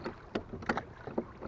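Oars working a small rowboat, a handful of soft splashing strokes and wooden knocks in an uneven rhythm, close and fairly quiet.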